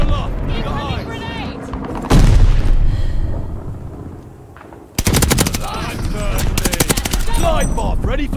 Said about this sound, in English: Recon aloft! Incoming grenade!